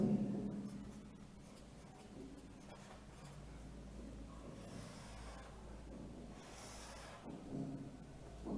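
A pen or marker draws a convex lens diagram, giving a faint, continuous scratchy stroke with a few brief pauses against a quiet room background, with no talk.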